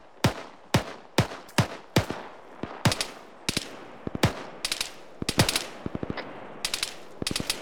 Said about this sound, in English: There's a machine gun firing over here.